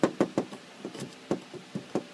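Chisel driven into the wood of a window frame while replacing a broken window: a string of sharp, close knocks, about ten blows at an uneven pace with short gaps between them.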